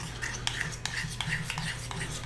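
A spoon scrapes and clinks steadily against a bowl while mixing peanut butter with ranch dressing, close and fairly quiet, with repeated scraping strokes over a low background hum.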